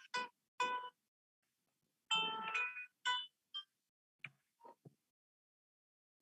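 A phone ringtone sounds during an indoor briefing session, a melodic electronic chime repeating in bursts with short pauses, fairly loud and clear and alone, with no talk over it.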